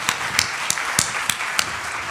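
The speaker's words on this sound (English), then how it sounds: "let's have a round of applause for our speakers" Applause for the speakers at a women's heart health symposium, a mix of crowd clapping with a few sharper, louder claps standing out in an irregular rhythm, moderately close and without talking.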